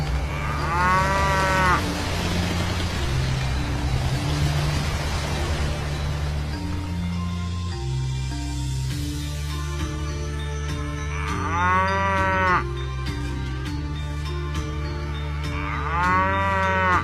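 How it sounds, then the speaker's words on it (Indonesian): A cow brought from India lets out three long, drawn-out moos, one near the start and two toward the end, each loud and clear over a steady low background drone. "Syekh Jafar Shodiq membeli seekor sapi dan didatangkan langsung dari India"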